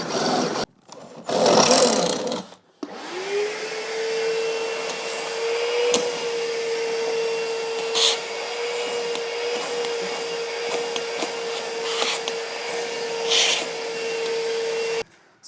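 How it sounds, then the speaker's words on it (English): A power drill whines steadily while boring holes into the side of a Mazda NB Miata's B-pillar, a sustained near motor tone with short louder bursts and clatter at the start. "the last step is to drill the final holes on the side of the B-pillars"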